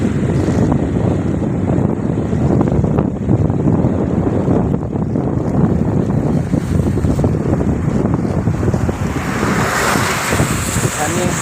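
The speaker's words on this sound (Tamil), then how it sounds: "தண்ணி வெள்ளம் தான், கடும் வெள்ளம்." Heavy floodwater rushes at the Kottaikallaru bridge in a continuous loud roar, mixed with wind buffeting the microphone, unbroken for the whole stretch.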